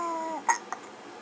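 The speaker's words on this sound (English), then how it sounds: "So these hiccups are a pain." A one-month-old baby hiccups twice in quick succession, soft and close, after a brief fading whimper.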